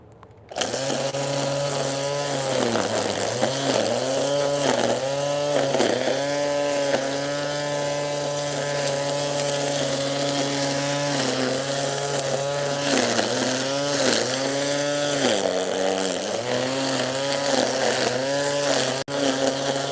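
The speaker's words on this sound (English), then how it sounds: "A weed whacker." A gas-powered weed whacker (string trimmer) runs outdoors close to the listener for nearly twenty seconds, a loud buzzing engine whine that rises and dips repeatedly as the throttle is worked.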